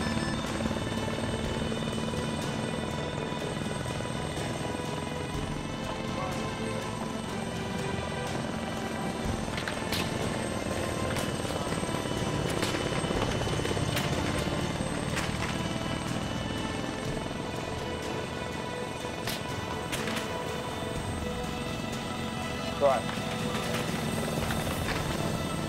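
Helicopter in ArmA 3 drones on continuously with a loud, even rotor and engine roar, broken by occasional sharp cracks and clicks, with little talk.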